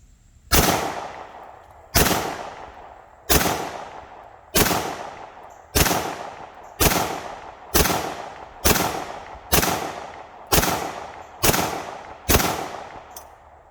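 Pistol fired with a P80 frame, complete with a flat trigger: eleven sharp, loud shots at a steady pace of roughly one per second, each with a short decaying echo, outdoors and without talking.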